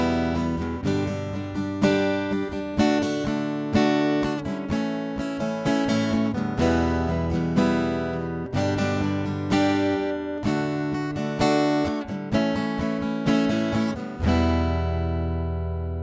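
Strummed guitar chords in a loose, varied rhythm, bright and loud with sharp attacks, ending on a ringing chord that fades out.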